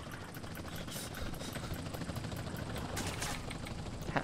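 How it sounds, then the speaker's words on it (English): A Ballas gang helicopter thunders overhead in GTA San Andreas, its steady rotor roar filling the mix while bursts of gunfire crackle throughout, dense and continuous. "Ballas have a helicopter."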